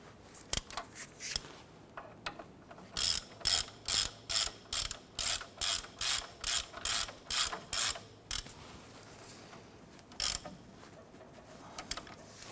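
Ratchet clicking as caliper bracket bolts on a 1993-1997 Ford Ranger are snugged down: scattered clicks, then a steady run of about a dozen loud, evenly spaced ratcheting bursts, a pause and a few more clicks, close up with no talk.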